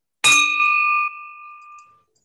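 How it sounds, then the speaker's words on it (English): A single bell is struck once for a Boys and Girls Club fundraiser, giving a bright, clear ding that rings on and fades smoothly over about two seconds, alone and close. "So I'm ringing the bell for the Boys and Girls Club."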